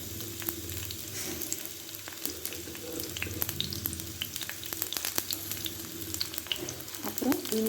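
Green chilies and a medium onion sauté in hot oil for a vegetable kurma, making a continuous loud sizzle with frequent sharp spits and pops throughout.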